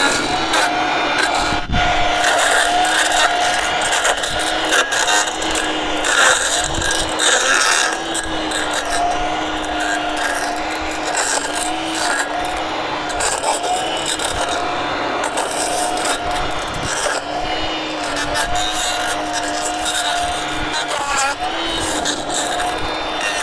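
A Stihl KMA 135 R battery brushcutter runs steadily in an outdoor patch of blackberries, its high whine holding a constant pitch while the cutting head chews and rasps through tangled canes, loud and continuous throughout.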